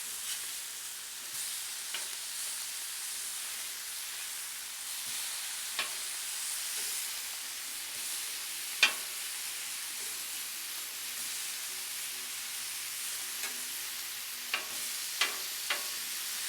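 Garlic shrimp with a crust of Parmesan-laced seasoning frying on a Blackstone griddle, giving a steady soft sizzle with a few faint scraping ticks from a spatula; no one talks over it.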